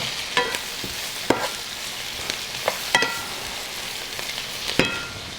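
Home fries sizzle steadily in a pan with a soft crackling hiss, broken by several sharp clicks and scrapes of stirring, with no talking.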